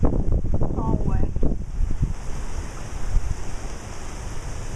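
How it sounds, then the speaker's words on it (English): Strong, roaring wind from an approaching tornado gusts steadily near the microphone, broad and rushing throughout, with brief voices at the start under the blowing noise. "I'm getting in, it's getting windy."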